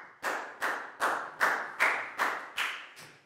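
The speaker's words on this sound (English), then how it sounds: "Big round of applause for Pat" A classroom group claps for a pupil in about eight short, evenly spaced bursts of applause, fairly close and with no talking over it.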